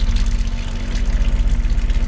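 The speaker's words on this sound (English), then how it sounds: "I started pumping the water out when this clock said 2 minutes to 10 this morning" A pump draws water out of a leaking tank, a steady pulsing low motor hum over churning, gushing water that runs continuously and close.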